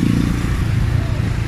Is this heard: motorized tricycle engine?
yes